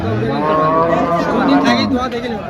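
A milking cow at a cattle market gives a long, loud, close moo that swells and fades, with crowd chatter in the background.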